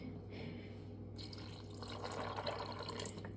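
Water is poured over raw peanuts in a kitchen before microwave boiling. It makes a faint, close trickle and splash that rises after a brief quiet start, with no talking.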